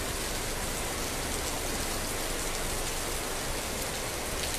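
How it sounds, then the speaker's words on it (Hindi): A downpour of big raindrops falls across a leafy park in Faridabad, making a constant, full wash of noise at an even loudness with no other sounds standing out. "अच्छी खासी बढ़िया बारिश हो रही है,"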